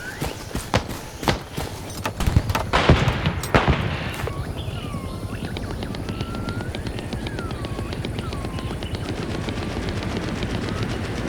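Intense gunfire from the Vietnam War shooter Hell Let Loose: rapid machine-gun bursts and sharp shots crackle loudly in the first four seconds, then fade into a steady jungle backdrop of chirping birds and insects.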